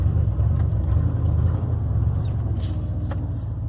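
A Chevrolet Tahoe engine running after sitting unused for four months, a steady, loud, low rumble with faint higher rattles and no talk over it.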